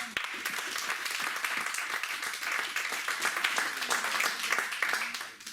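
A church congregation at a French-language service claps steadily in a continuous patter that holds for several seconds, then trails off at the end.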